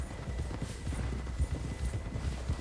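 Horse hooves clip-clopping steadily in the Red Dead Redemption 2 video game, a brisk, continuous trot close by with no talking over it.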